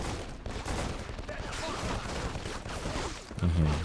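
Gunfire in Call of Duty: Finest Hour on PS2, a steady rattle of loud rapid shots throughout, with a voice talking underneath.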